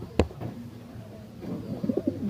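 Racing pigeons in a breeders' loft coo softly in short low murmurs alongside a sharp tap near the start, a close, quiet scene with no talking.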